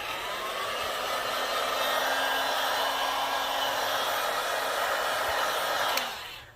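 A heat gun blows steadily on a Google Pixel 6 screen during a repair, a close, even whooshing roar with a faint whine that holds for about six seconds before cutting off abruptly.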